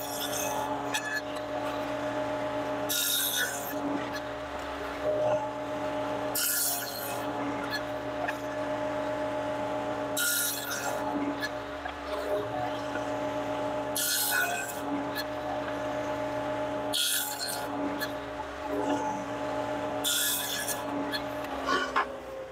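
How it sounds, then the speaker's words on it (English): Saw cutting dados in wood for an Adirondack swivel glider chair carcass, a steady machine hum with repeated bright rasping passes every few seconds as each dado is run, close and fairly loud. "So I'm going to run a couple of these dados for part of the carcass."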